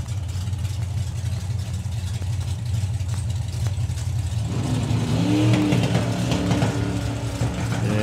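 A drag racing car at a drag strip idles with a low rough rumble, then its engine rises in a revving surge with uneven popping and banging, loud and close.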